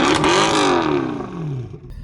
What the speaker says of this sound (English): It's that classic V8 rumble as well,